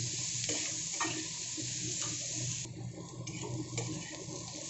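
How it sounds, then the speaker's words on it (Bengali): Potatoes and onions frying in oil for a bhetki fish bone curry, with a steady close sizzle and a spoon stirring and scraping the pan at intervals. "এবার এটাকে একটু আমি খুব ভালো করে ভেজে নেব।"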